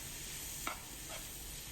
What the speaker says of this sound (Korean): 고기 겉면이 익을 때까지 함께 꼭 볶아주세요